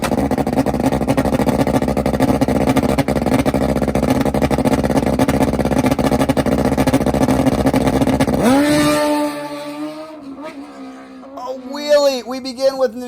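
A Hayabusa drag bike roars at full throttle during a wheelie run, a loud sustained engine blare that cuts off abruptly and gives way to distant, rising and falling engine whines from further down the strip.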